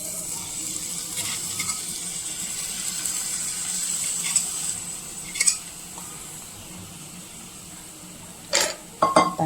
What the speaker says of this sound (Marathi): त्याला परत मिक्स करून घेऊया.